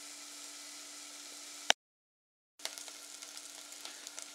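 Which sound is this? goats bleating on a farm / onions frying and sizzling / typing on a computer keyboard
onions frying and sizzling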